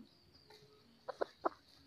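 A jungle-blood F3 chicken gives three short, quiet clucks in quick succession near the end, close by against a low background with a faint steady tone.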